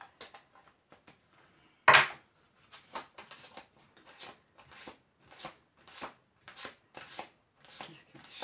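Tarot cards being shuffled by hand, a loud slap followed by a series of crisp riffles and taps in a steady rhythm, close and without talk.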